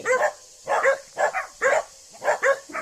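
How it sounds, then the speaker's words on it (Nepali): Dogs bark repeatedly in quick pairs of yaps, close and fairly loud, with short pauses between bursts. "कति धेरै कुकुर आउँदो रहेछ"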